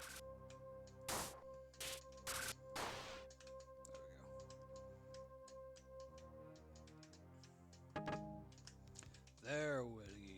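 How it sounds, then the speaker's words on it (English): Clacky computer keyboard struck loudly in short bursts and isolated heavy keystrokes, sharp and close, with a few louder thunks and a faint hum underneath. "my keyboard is a little too loud"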